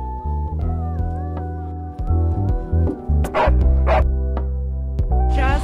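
A dog out on a walk with its owners yips and barks in short bursts, with whimpering whines between them, close and loud, with some faint voices in the background.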